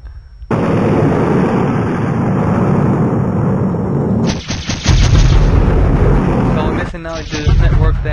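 Bots firing bullets in a Unity Blasteroids space shooter game: a dense, continuous roar of rapid blaster fire and booming impacts, loud throughout, with staccato bursts toward the end.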